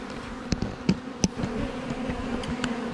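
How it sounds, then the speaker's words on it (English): Steady droning hum of many honey bees in a five-frame hive, with a few sharper buzzes of individual insects flying close by. "I want to look at the density of the bees in this hive."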